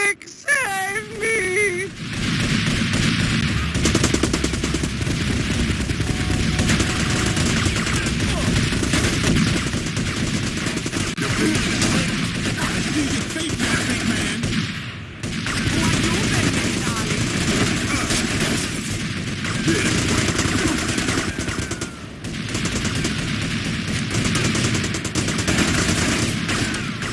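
Sustained automatic gunfire rattles almost nonstop through a shootout in GTA Vice City Stories, loud and dense, with brief lulls around the middle and later on, while voices speak over it.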